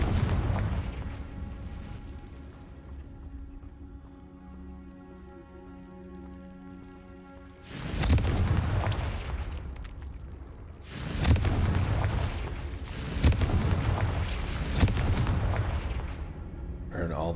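Confringo explosion spell cast in the video game Hogwarts Legacy: after a calm musical stretch, a loud blast hits, followed by a cluster of further heavy bursts and booms.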